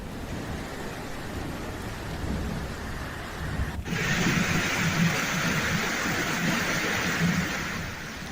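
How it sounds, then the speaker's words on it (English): A heavy thunderstorm with a pounding downpour in Antalya's Kumluca district, Turkey: steady dense rain roars throughout, with rumbling thunder swelling and then intensifying sharply midway, with no voices. "The downpour and storm in Antalya's Kumluca district increased its effect after"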